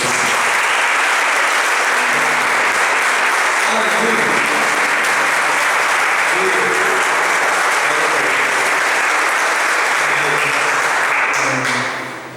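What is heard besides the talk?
congregation applauding in church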